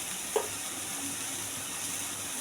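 Ground pointed gourd paste with garlic, ginger and tomato paste cooks in a pan, giving a steady, soft sizzle with one brief scrape of stirring near the start.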